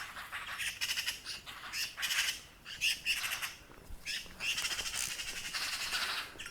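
Several birds squawk and chatter in harsh, repeated bursts, fairly close, with no talking.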